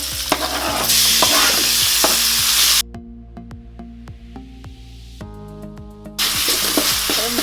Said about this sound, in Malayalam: ഒരു 3 മിനിറ്റോളം നമ്മൾ ഇളക്കി കൊടുക്കുക